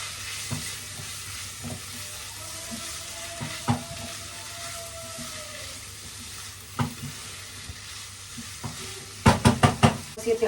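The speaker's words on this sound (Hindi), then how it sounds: "प्याज भुन चुकी है, बस ये फलियां इसके अंदर डाल देंगे और अच्छे से इनको जो है चला लेंगे।" Cluster beans frying with onions in a pan are stirred with a utensil that scrapes and clinks at intervals, and a short run of sharp knocks comes near the end, all over a soft steady sizzle.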